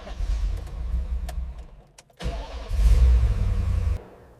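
Engine of a restored 1974 Lamborghini Urraco in a warehouse: cranking and catching, a brief pause, then a low rumbling idle that swells and settles, close and loud with no voices.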